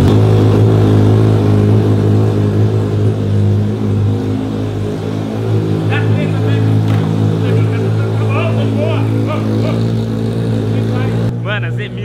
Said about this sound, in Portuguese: o barulho dessa moto tá bizarro. Tá muito alto.